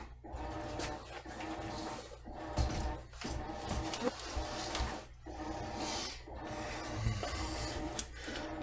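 A machine runs steadily with a buzzing, scraping mechanical hum and small shifting motor tones, no voices present, fairly quiet throughout.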